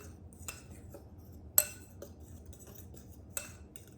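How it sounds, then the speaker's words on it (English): Whisk stirring dry pancake ingredients (flour and other dry mix) in a bowl: quiet scraping broken by a few sharp metallic clinks against the bowl's side. "this is all the dry ingredients, and it just says whisk it all together"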